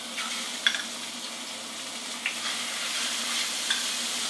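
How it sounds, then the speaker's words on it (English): Shrimp sauté in a hot pan for penne arrabbiata with a soft, steady sizzle, broken by a few faint clinks and tosses, quiet and close with no talking. "Saute it."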